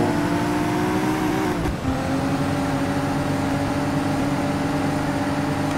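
BMW M4 lapping a race track in the Cobra 11 video game, a steady loud engine drone holding constant pitch with a brief dip and bump near the start, no voices.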